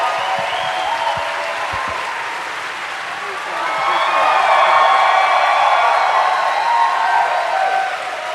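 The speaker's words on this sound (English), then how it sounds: "would everyone in the tavern give Devan a big round of applause?" A tavern audience at a live show breaks into a sustained round of applause, dense clapping that swells louder midway and carries on steadily as a crowd wash.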